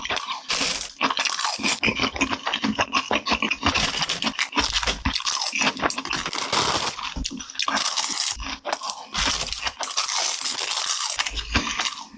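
Loud, close crunching of Pulmuone green laver seaweed wrapped around rice and kimchi, bite after bite, with crisp repeated chewing that continues steadily throughout.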